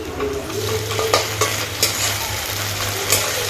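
Ginger garlic paste fries in a pan while a spoon stirs and scrapes it, giving a close, loud sizzle with a few sharp clinks of metal and no talk.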